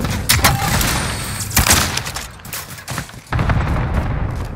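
Frag grenade blast in Call of Duty: Modern Warfare, loud booming thuds mixed with bursts of rapid gunfire, several heavy impacts over a dense, continuous battle din.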